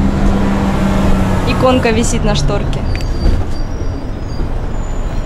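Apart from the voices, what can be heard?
bus riding in Russia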